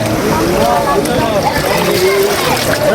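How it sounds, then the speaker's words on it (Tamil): Water splashes and sloshes continuously as it is poured over a person during an Ayyappan devotional ritual bath, loud and close, with voices talking over it. "அப்படியே தண்ணி மூணு ஊற்றுங்க."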